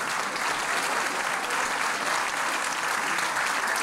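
Steady audience applause from a Turkish art music choir concert crowd in Bahçelievler, dense and sustained throughout at even loudness with no talking.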